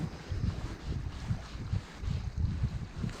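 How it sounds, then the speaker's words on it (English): Strong, cold wind blows across the open coast of Wales, a continuous low rumbling buffet against the microphone with gusty surges throughout and no talking. "I have to say that wind is brutal"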